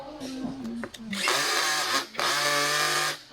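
A power drill tightens a bolt on a mesh office chair during assembly, with two sustained whirring bursts preceded by short clicks and handling noise, fairly close and loud.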